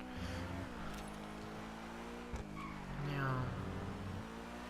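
A car in GTA Online slides and skids, with a steady engine drone, a tire squeal rising and falling, and a brief thump partway through, all fairly loud.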